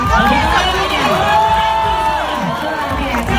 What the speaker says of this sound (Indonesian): terima kasih tepuk tangan dulu buat kalian yang udah nunggu dan luar biasa.